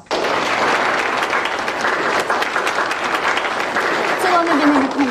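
A classroom of students applauds to welcome a new classmate, dense continuous clapping that stays loud and even throughout, with a voice briefly heard near the end.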